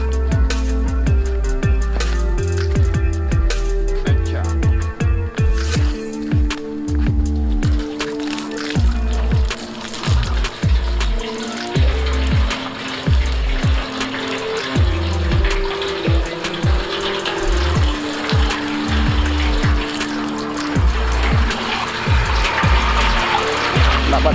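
Water pours into a drum for a homemade free-energy auto water pump, a steady splashing, gurgling fill with sloshing bursts that stays loud and close for the whole stretch with no voices.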